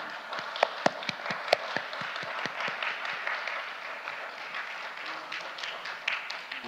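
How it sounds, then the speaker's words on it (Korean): Audience applause welcoming a lecturer at a cultural festival talk on hanok architecture, a modest crowd clapping steadily in a hall with some sharper individual claps, moderately loud. "네, 모두 큰 박수로 모시겠습니다."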